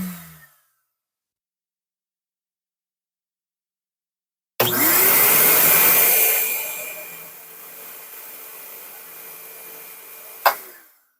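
Original standard DeWalt 12-gallon shop vacuum switches on after silence with a loud roaring whoosh, spins up and settles into a steady, high-pitched drone, ending with a sharp click as it shuts off.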